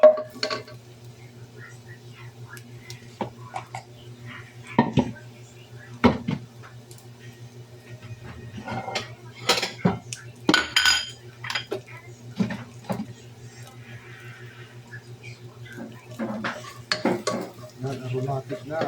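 Garlic sautéing in a pan while rice cooks for chicken biryani, heard mostly as clattering utensils, scraping stirs and pan knocks over a low background hum, with a soft sizzle underneath.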